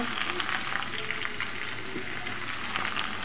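Garlic paste frying and sizzling in a hot pan among mango pieces, a steady dense crackle that stays even and close throughout.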